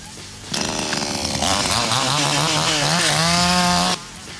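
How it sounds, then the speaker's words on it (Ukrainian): Petrol chainsaw cutting through fallen trees along a border road, the engine revving up loud and close for about three and a half seconds with rising and falling pitch as it bites into wood. "з бензопилою в руках на кордоні працює голова сусіднього села"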